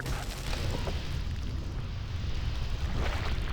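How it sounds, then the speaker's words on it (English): A support column blown up in Warcraft III: The Frozen Throne, heard as a sustained low rumbling blast with crumbling debris that rolls on steadily and fills the whole moment. "Let's explode the support column."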